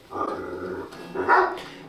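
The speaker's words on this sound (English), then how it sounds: "that is a dog with a priest collar" A dog gives a couple of low, growly barks close by, with a short gap between them.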